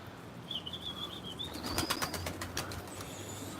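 A burst of rapid wing flapping as pigeons take off from a rooftop nearby, with a thin whistling chirp and soft cooing in the background.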